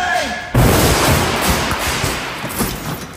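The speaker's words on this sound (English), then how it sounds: "I think a gun safe fell through the ceiling." A gun safe crashing through a ceiling hits with one sudden loud, heavy impact. Rumbling debris and crashing noise follow and fade over the next few seconds.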